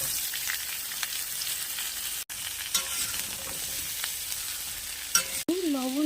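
Vegetables sizzle in hot oil with bay leaf and panch phoron, with a steady close crackle and stirring scrapes throughout. A brief tonal clink or squeak comes near the end.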